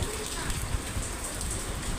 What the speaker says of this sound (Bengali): কেমন জোরে জোরে বৃষ্টি পড়তেছে দেখুন